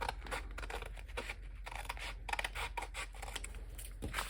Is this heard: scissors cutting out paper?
yes